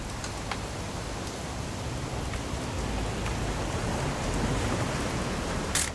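Steady rain in the video game What Remains of Edith Finch, a continuous soft hiss of falling water with faint scattered drops, no voices, holding even throughout.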